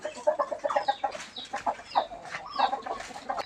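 Chickens at a temple in Lampang, Thailand, give a string of close, rapid clucks and short calls in uneven bursts, fairly quiet and with no clear talk over them.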